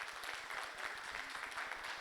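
Faint, distant applause fills a church hall, a soft continuous patter of many hands clapping, low in level and heard from far back.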